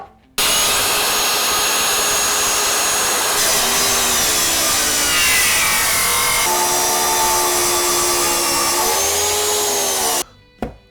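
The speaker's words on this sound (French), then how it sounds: "J'ai coupé ma planche." A wooden plank being cut for a shelf with a loud, close power saw, one continuous roaring cut of about ten seconds whose pitch dips and wavers as the blade bites, with no talk.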